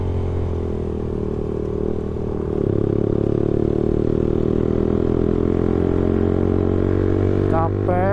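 A Suzuki Satria FU motorcycle engine drones steadily while riding at night, its pitch and loudness rising partway through and staying loud, with a short chirping sound near the end.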